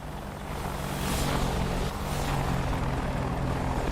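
An AH-64 attack helicopter in the DCS combat flight game roars past as a continuous rotor-and-engine drone that builds slightly in the first second and then holds loud and steady.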